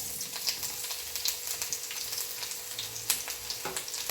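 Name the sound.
onions frying in a pan with ginger and mustard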